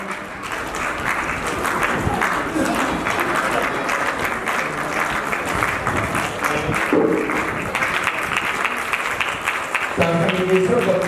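Steady audience applause at a children's Nirankari Bal Samagam congregation, a sustained wash of many hands clapping over about eleven seconds, with some voices mixed in toward the end.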